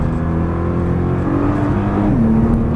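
Nissan GT-R engine on a hot lap, a loud sustained drone from inside the car with the pitch holding and then stepping up as it accelerates; no voices.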